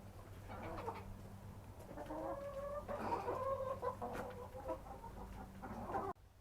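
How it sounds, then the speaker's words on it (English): Backyard chickens pecking at dried bug treats cluck close by in soft, irregular bursts over a steady low hum, with no talking. "There are chickens."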